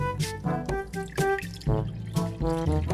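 A cup of water poured for cooking rice, giving a close, bubbly splashing with several gurgling bursts and short breaks as the stream hits the pot.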